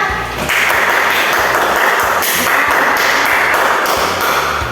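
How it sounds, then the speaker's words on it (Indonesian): Classmates applauding after a group presentation in a biology classroom, loud dense clapping from many hands that carries on steadily for several seconds. "Beri aplaus untuk temannya"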